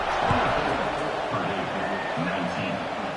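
A stadium crowd buzzes with steady, loud roaring murmur at a college football game in EA College Football 26, TCU versus Boise State, heard alongside a commentator's voice.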